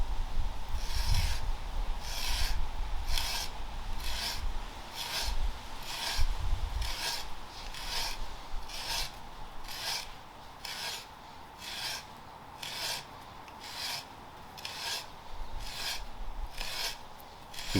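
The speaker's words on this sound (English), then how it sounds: "You can see with a sharp auger it really doesn't take too long." Sharp auger boring a hole in a wooden axe block or carving stump for green woodworking: about a dozen rhythmic rasping turns, evenly spaced and moderately close, with no talking.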